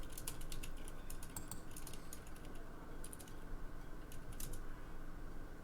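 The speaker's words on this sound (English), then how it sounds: "Can you hear me typing?" Typing on a computer keyboard, heard as rapid irregular clicks in bursts over a steady low background hum, close and fairly quiet.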